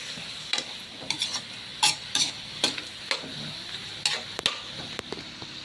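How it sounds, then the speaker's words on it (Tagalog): Monitor lizard meat sautéing with soy sauce and vinegar for adobo, giving a steady sizzle broken by sharp, close scrapes and clacks of a spoon stirring against the pan at irregular intervals. "Sangkutsahin maigi."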